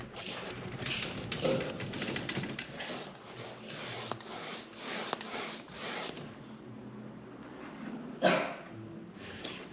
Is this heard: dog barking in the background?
yes